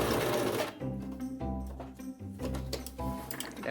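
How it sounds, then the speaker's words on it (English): A sewing machine runs in short bursts while back stitching fabric for a bat wrap, its needle mechanism whirring and ticking in rapid rhythmic pulses, close and fairly loud, with no talk. "And I'm gonna back stitch again."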